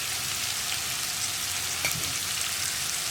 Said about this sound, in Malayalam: ഇനി ഇതൊന്ന് നന്നായിട്ട് വഴറ്റിയെടുക്കുക.